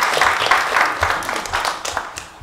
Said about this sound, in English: Oh, give yourselves a clap.